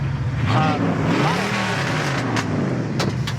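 A 1971 Ford Mustang Mach 1 engine with cherry bomb dual exhaust rumbles deeply at close range, revving up and down with a throaty, burbling exhaust tone that holds steady throughout.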